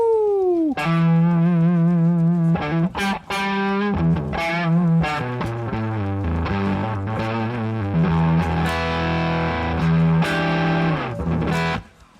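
A heavily distorted rock electric guitar plays through the Mixwave amp simulator plugin, loud sustained power chords and riffs with crisp attacks and brief pauses, ringing out alone and cutting off at the end.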